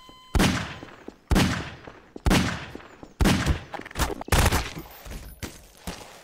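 Gunfire in the sandbox game Garry's Mod, five or six loud, evenly spaced single shots, each sharp crack trailing off into a short decay, close and prominent with little else around them.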